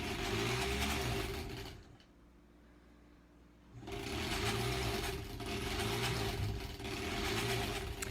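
A sewing machine stitches quilt strips for a granny squares quilt with a steady whirring hum. It pauses briefly, then runs again at a fairly even pace, close and moderately loud.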